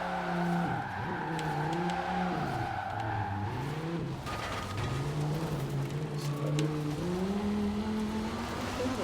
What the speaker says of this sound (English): I haven't properly driven the Cyberpunk vehicle